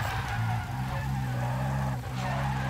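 A car drives with a steady engine drone and skidding tires in Call of Duty: Modern Warfare 2, loud and continuous for about three seconds with a brief dip near the end.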